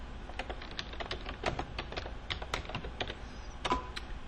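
Steady typing on a computer keyboard while filling in vendor entry fields, with quick, irregular key clicks and the occasional firmer press of the enter key, close and clear over a low background hum.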